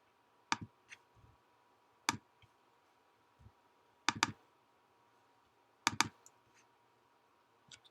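Computer mouse clicks while an LC-3 simulator is being installed: close, sharp double clicks in quick pairs, spaced a couple of seconds apart, with a few fainter single ticks between them in a quiet room.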